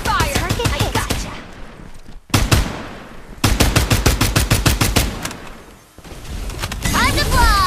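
Machine gun fire from the video game Farlight 84 comes in long, rapid, loud bursts broken by brief pauses, with game voices speaking over the shooting.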